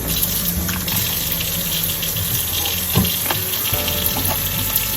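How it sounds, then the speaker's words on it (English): Tap water running steadily into a kitchen sink while hands are washed before cooking, a close, constant rushing gush with a few small knocks and splashes and no talking. "Let me wash my hands."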